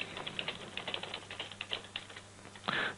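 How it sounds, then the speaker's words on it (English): Quick, light keystrokes on a computer keyboard patter in an irregular run, close and fairly soft, ending with a slightly heavier clack, with no talking over them. "we can type some notes"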